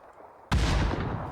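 Gunfire in the PC game PUBG, a sudden sharp burst that erupts after a quiet moment and rings out loudly with a sustained echoing tail.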